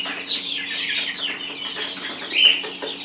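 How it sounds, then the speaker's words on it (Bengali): Egyptian Fayoumi chickens cluck while eating feed and grass, a continuous close chatter of overlapping clucks and small squawks from the flock, with one sharper call near the end. "মুরগিগুলো ফিড খাচ্ছে"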